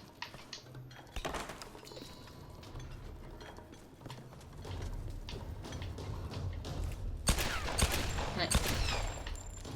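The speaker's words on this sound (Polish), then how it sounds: "Gdzie ja strzelam?" Gunfire in the video game Tomb Raider 2013 comes as scattered sharp reports and bursts amid busy game noise, with a louder cluster of shots near the end.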